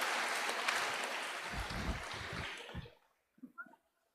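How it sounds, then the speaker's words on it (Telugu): An audience at a gathering claps loudly for several seconds. The applause then fades and stops abruptly, leaving a few faint scattered sounds afterward. "Claps claps claps."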